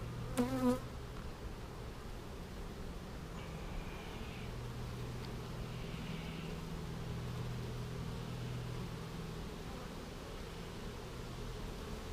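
Honey bees buzz around a package bee colony hive, a faint, continuous droning hum with individual bees passing close now and then, after a brief clack at the start.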